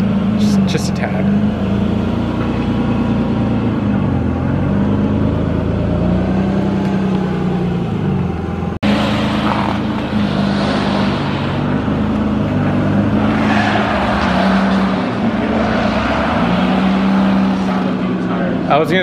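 Loud steady road and tire roar from a Toyota 4Runner travelling fast at around 90, a continuous low rumble filling the whole stretch beneath faint voices.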